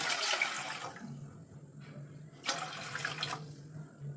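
Water splashes and pours into a pot in two bursts, with a steady low hum underneath and no talking.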